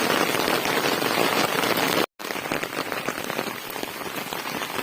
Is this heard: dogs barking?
no